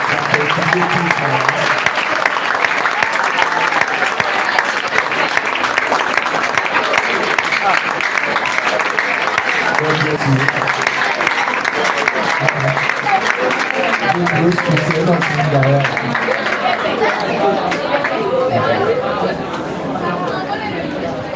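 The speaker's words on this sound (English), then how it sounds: "A round of applause for Jaypee." An audience gives a round of applause at a gathering with past students and doctors, loud sustained clapping mixed with crowd chatter and voices, easing slightly toward the end.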